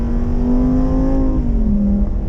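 Lamborghini Huracan EVO Spyder on a race track at Canadian Tire Motorsport Park, engine droning loud and steady under acceleration, its tone holding then dipping briefly as if shifting, close and continuous with no talk.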